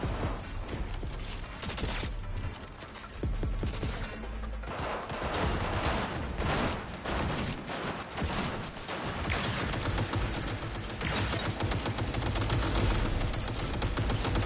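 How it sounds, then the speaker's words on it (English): Dense, continuous bursts of gunfire fill a firefight in the video game Cyberpunk 2077: Phantom Liberty, with rapid shots overlapping at a steady, loud level throughout. "Oh, they're shooting the ones up there."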